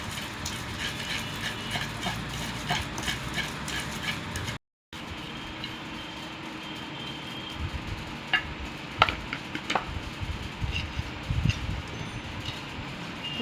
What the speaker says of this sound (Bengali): প্রথমে মরিচগুলো সুন্দর করে পিষে নিচ্ছি।